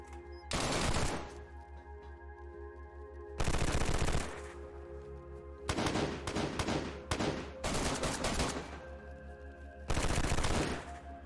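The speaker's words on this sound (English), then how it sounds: "hip firing in DayZ is OP" Automatic gunfire from hip firing in the DayZ video game comes in five loud, sharp bursts separated by pauses, heard over a constant low game hum.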